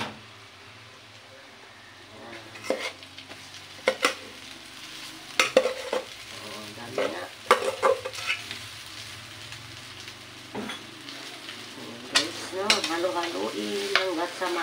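Fried rice is stirred in a frying pan, a soft continuous sizzle punctuated by sharp spatula scrapes and clatters at irregular intervals, close by, with quiet speech.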